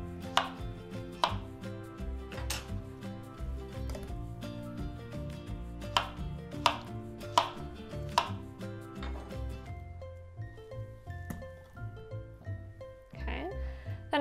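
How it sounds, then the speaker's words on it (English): A knife chops bananas on a cutting board in a home kitchen, a series of sharp, irregular thuds that pause briefly and then resume, over a faint hum of background sound. "So I'm just going to chop them carefully with a knife."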